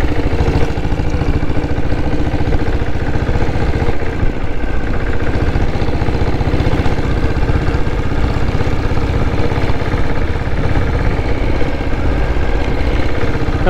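The diesel engine of a 1997 Bullet motorcycle runs steadily, a loud, close, continuous thumping idle with no change in pace and no voices.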